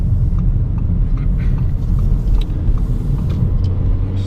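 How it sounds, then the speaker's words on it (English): Low, steady rumble of a car slowing and turning left at a road junction, heard from inside the vehicle as continuous road and engine noise without speech. "Bringing the speed down, off the brakes, into gear and turn."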